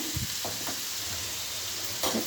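Spices with red chili powder, coriander powder and salt are stirred in hot oil in a pan for an egg and potato curry, a steady low sizzle with a few soft scraping strokes of the spoon, close and quiet.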